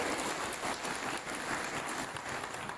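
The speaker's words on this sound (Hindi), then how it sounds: "एक बार जोरदार तालियां।" A crowd at a school wellness programme applauds rickshaw drivers, a short, fairly quiet burst of continuous clapping with no talk over it.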